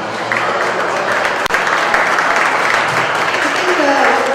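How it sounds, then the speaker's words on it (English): Spectators at a Belted Galloway cattle show at the Big E applaud in a dense, steady round that carries on throughout, with an announcer's voice and crowd murmur underneath. "Let's give our first and respect a second round of applause."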